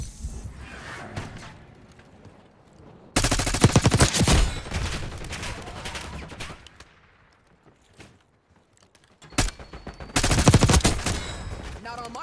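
Rapid automatic gunfire in Call of Duty Black Ops 6, loud dense bursts broken by quieter gaps, with game voices speaking between the volleys.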